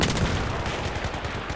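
FAMAS rifle fire rattles in Battlefield 3 on the Karkand map, heard as a dense, continuous burst of rapid gunshots that stays loud and close throughout.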